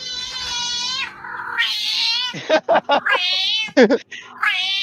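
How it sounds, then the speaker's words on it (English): A cat in heat yowls loudly and close, drawn-out wavering caterwauls broken by a few short choppy cries, filling the space alone. "Cats sound like that when they're in heat."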